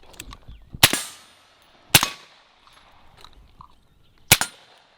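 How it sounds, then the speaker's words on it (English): Three loud, sharp gunshots from a CMMG Resolute AR-15 rifle chambered in 350 Legend, spaced irregularly outdoors, each with a short echoing decay and quiet gaps between. "You've got like 50 rounds of 350 Legend downrange."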